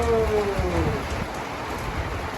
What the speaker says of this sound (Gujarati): આવા વરસાદમાં